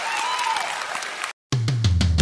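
Audience applause at a live televised music show, a dense burst of clapping that cuts out briefly and then resumes louder, with cheering and music underneath.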